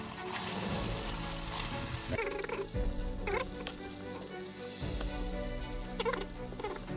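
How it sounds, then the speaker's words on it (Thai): Sliced pork frying in red curry paste in a pan for a Thai red curry with eggplant, giving a loud, steady sizzle and crackle with occasional stirring and scraping, no talking. "นี่ผมก็จะใส่ เนื้อหมูหั่นลงไปนะครับเพื่อนๆ"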